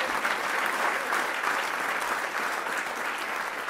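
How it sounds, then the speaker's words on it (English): A crowd at a governors' ball gives a steady, full round of applause for the President and First Lady, dense clapping that holds evenly without speech. "So if we give a great round of applause to the President and the First Lady."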